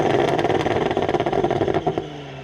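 A B9 Audi S4 built to run ten-second quarter miles drives past, its engine giving a loud, gruff pulsing drone that fades near the end.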